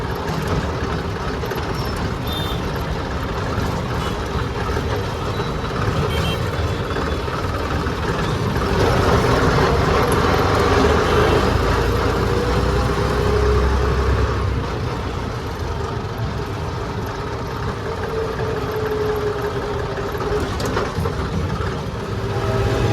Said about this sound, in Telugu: ఇప్పుడు కూడా చూద్దాం ఎట్లుందో ట్రాఫిక్